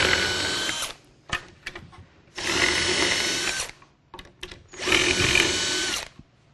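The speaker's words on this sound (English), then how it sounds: "So we'll now just go ahead and drill these holes." A power drill runs in three loud bursts separated by short pauses, with small clicks and rattles in between.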